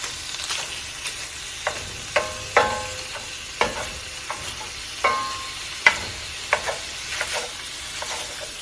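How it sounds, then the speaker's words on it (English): Egg roll in a bowl filling cooking in a pan, a steady sizzle of frying with scattered scraping and clinking as a utensil chops and stirs the pieces, irregular taps over continuous hiss. "Now I'm just gonna chop this up and cook it to, kind of fine pieces, like you'd find in an egg roll."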